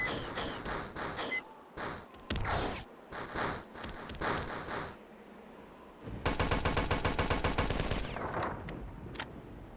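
A fusion gun in the sci-fi shooter Marathon fires in separate bursts of rapid, crackling shots, then a sustained rattling volley in the second half, fairly close and with no talking.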